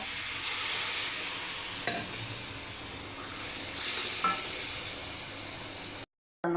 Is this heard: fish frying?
yes